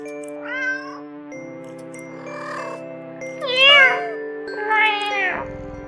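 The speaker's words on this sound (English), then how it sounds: "The sound of happy cats munching away at their fish fills your ears." Cats in an itch.io video game give a series of bright meows, three or four separate calls over a steady electronic background tone, ending in a short thud.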